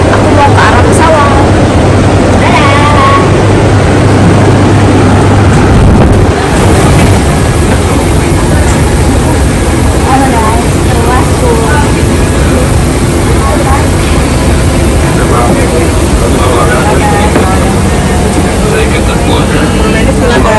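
A loud, steady airplane engine roar fills the whole stretch, constant and close, with a high whine above the rumble.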